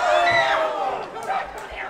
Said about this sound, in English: Fans here, the Berwyn Eagles are cheering for CHICO.